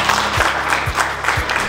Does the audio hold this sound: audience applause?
yes